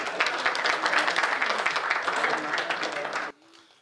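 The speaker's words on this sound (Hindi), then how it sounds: "अब क्या आपके कानों में आकर कहूं कि ताली बजाओ?" A crowd at a Hindi comedy poetry recital claps vigorously for about three seconds, a dense, lively burst of applause that stops abruptly.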